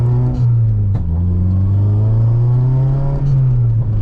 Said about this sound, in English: I'm going to show you the technique I was telling you about with the throttle.